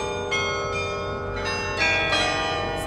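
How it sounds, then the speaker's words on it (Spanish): Church bells in Amsterdam ringing a sequence of clear, sustained strikes, each tone overlapping the last with long resonant decay, moderately distant and steady with no speech. "¡Ahora reproduce campana sobre campana!"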